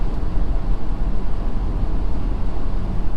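A 2020 Ford Super Duty pickup with a 10-speed transmission accelerating at around 2300 rpm while towing 18,000 lbs, heard as a steady low engine drone with rumbling road noise from inside the cab, and no talking.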